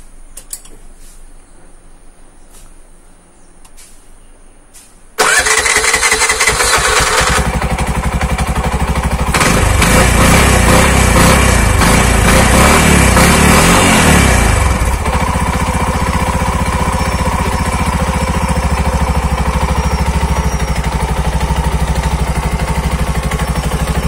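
A Bajaj BS6 CNG auto rickshaw, running on petrol, cranks and fires into a loud, steady idle after a few seconds of quiet ticking, its engine note staying close and continuous to the end.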